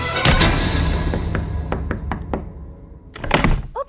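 Someone knocks on a door indoors: a loud pair of thuds, then a quicker series of lighter raps, and a final burst of heavy banging, all close and without speech.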